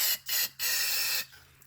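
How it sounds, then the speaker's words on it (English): Parts cleaner sprayed from an aerosol can into the engine oil sump of a Raptor 660 quad: three loud, close hissing bursts, two short and one longer, followed by quieter dripping flow. "So just by spraying parts cleaner in here,"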